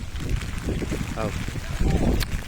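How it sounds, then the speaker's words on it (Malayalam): Rain and gusting wind sweep across an open grassy hillside, a steady rushing hiss with wind buffeting the microphone, and a voice speaks briefly over it. "ആ ഒരു മഴയുടെ ശബ്ദം"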